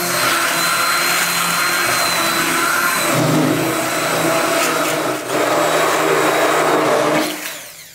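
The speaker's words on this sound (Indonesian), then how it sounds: "Blend dia." An electric blender whirs loudly and continuously while blending ingredients for a kuih filling, its motor pitch dipping as the load changes before it winds down at the end.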